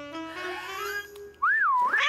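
A person whistles to train a dog named Gilbert to come, a rising sustained tone followed by a louder wavering two-note call, near and alone.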